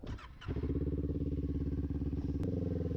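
A warmed-up, non-stock Kawasaki Ninja 400 motorcycle engine idles steadily up close, a low, fast, even throb that continues throughout after a brief rattling start.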